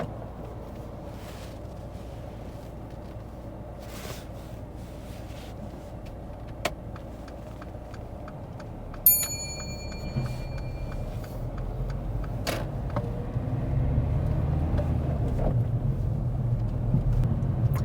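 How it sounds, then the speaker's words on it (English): A car on an unfamiliar road during a mock driving test pulls away, its engine rumble building steadily from low to louder over the second half, with a few clicks, a short electronic chime and a sharp knock in the cabin, and no talking. "And drive off again when you're ready."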